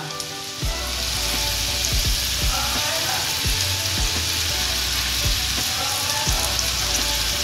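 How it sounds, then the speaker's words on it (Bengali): Bottle gourd peel frying in a pan over raised heat, heard as a loud, continuous close sizzle with occasional soft knocks of a spatula, without any talk. "এইবার আঁচ বাড়িয়ে ভাজতে থাকবো"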